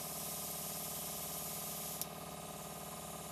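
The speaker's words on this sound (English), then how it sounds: "I'm trying to spray out the rest of the water here." A Belletto Studio airbrush sprays water in a steady, even hiss of fine spray that runs continuously, with a brief click midway and no talking.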